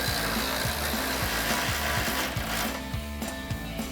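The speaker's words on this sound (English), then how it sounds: "Now take a 19mm swivel socket to tighten down your upper ball joint." A power tool drives a 19mm swivel socket to tighten an upper ball joint on a Jeep Wrangler JL, giving a loud continuous mechanical whir with a rapid regular pulsing rattle, close and unbroken.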